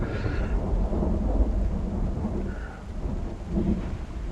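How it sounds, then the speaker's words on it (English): Thunderstorm in the Project Zomboid video game: deep rolling thunder rumbles over a continuous wash of rain, steady and moderately loud, with no talking. "it really gives me the thunderstorm vibes"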